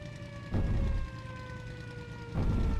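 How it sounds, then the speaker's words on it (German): A steady wailing air raid siren in the WWII flight simulator IL-2 Cliffs of Dover drones in the distance, its tone holding level, while a low aircraft engine roar swells up twice beneath it. "Ja, ich höre jetzt die Sirene auch."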